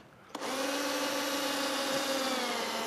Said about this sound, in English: So starting off with my cone cutter.